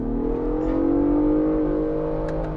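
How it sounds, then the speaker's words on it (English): A 2024 Ford Bronco Raptor engine revving hard at full throttle, a loud close sustained drone that rises and holds in one gear before easing slightly at the end, no voices. "let's see if I just floor it, if it will downshift"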